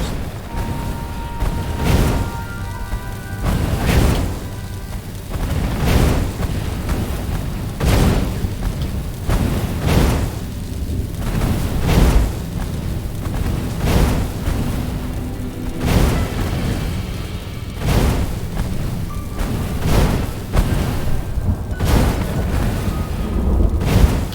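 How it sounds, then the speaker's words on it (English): Energy cannons in a PC action game fire a long series of heavy booming blasts at roughly regular intervals, loud and close, each shot a sharp broadband burst over a rumbling background. "Energy cannons. The last argument of kings."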